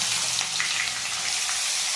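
Chopped onion hits hot oil with whole cumin seeds, giving a steady bright sizzle that runs evenly throughout, with no voices.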